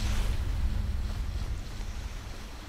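Rough, vigorous ocean surf and tide in Skyrim, a dense continuous wash of water and wind-like rushing that stays loud throughout.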